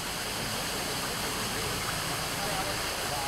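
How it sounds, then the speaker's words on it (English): Strong gush of water pouring from a black discharge pipe of a 2 kW solar water pumping system at 260 litres per minute, a dense, loud, steady roar close by. "from this black pipe. Discharge is 260 liter per minute, and head is only 30 feet."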